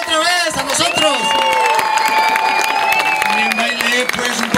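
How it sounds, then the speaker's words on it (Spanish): A crowd claps and cheers after a couple dances vueltas antioqueñas, with loud overlapping chatter, whistles and voices over a dense, continuous wash of applause. "Un aplauso otra vez a nosotros."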